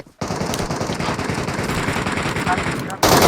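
Sustained rapid automatic gunfire in the PUBG Mobile game, loud and continuous for about three seconds, breaking off briefly before another burst.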